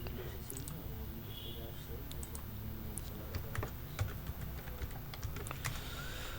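Someone types a search on a computer keyboard, with quick, faint clicking keystrokes in an irregular rhythm throughout.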